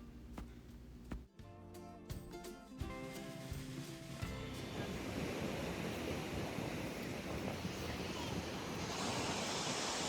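Waves and wind on an Atlantic Ocean beach on a sunny summer day, steady roaring surf washing in with gusty wind buffeting the microphone, after a few brief sounds at the start.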